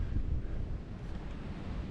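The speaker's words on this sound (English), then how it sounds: "It's so windy up here." Strong wind roars across an exposed mountain ledge, a continuous loud rumbling buffet against the microphone with no voices.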